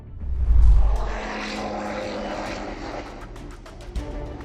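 Aircraft engine roar during an emergency landing after a bird strike: a steady, loud droning rumble with a heavier low surge at the start, continuous throughout, with faint crackling bursts near the end.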